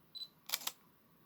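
An Olympus OM-D mirrorless camera fires its shutter at 1/100 second, giving a faint electronic beep followed by a quick double mechanical clack, close and quiet in a still room.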